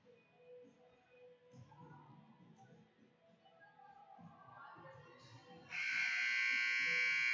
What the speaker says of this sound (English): And that is the buzzer.